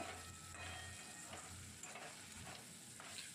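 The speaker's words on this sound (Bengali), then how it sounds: "তারপরে দেখো করলা ভেজে নিচ্ছি একটু" Bitter gourd frying in oil in a home kitchen pan, a steady loud sizzle running throughout with occasional stirring scrapes, no talking.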